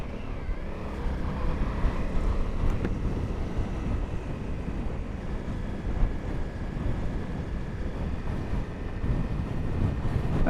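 Steady low rumbling wind buffeting the microphone, too strong to fly a drone, continuous and fairly loud with no voices.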